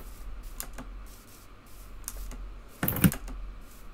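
Close computer keyboard typing during a Zoom call comes as scattered key taps, then a brief louder burst of clicks near the end.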